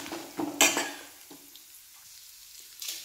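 Whole spices (cinnamon, cloves), white urad dal and a little poppy seed crackle in hot oil in a pan, with sharp sizzling bursts and a few spoon scrapes that quickly die down to a faint hiss.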